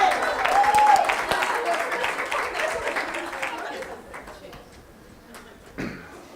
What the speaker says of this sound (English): Right now, more cheering from the audience.